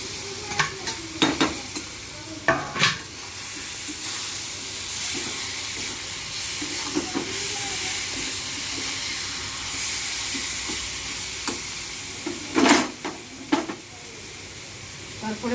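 Potatoes drop into hot oil in a home kitchen pan and fry with a steady, loud sizzling hiss, broken by occasional scraping stirs and clinks.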